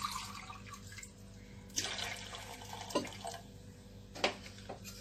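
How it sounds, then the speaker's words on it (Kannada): About three glasses of water are poured into a vessel of raw mango paste for rasam, a close continuous splashing and trickling with a few sharper splashes and clinks. "ಮೂರು ಗ್ಲಾಸ್ನಷ್ಟು ನೀರು ಆ್ಯಡ್ ಮಾಡಿದ್ದೀನಿ ನಾನು."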